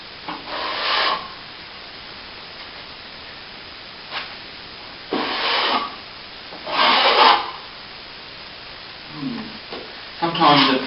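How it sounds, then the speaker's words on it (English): Scraping back a damp plaster wall with a hand tool gives several separate rasping, gritty strokes, each about a second long, with quiet gaps between them and a voice speaking softly at times. "Do the scrape back."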